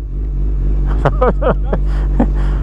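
Honda CB1000R and Ducati Panigale V4 motorcycle engines blip and rev in a few sharp bursts over a steady low idle rumble, close by and loud, before a drag race.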